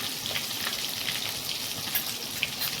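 Boiled eggs frying in hot oil in a pan, giving a steady, close crackling sizzle with scattered pops throughout and no talking.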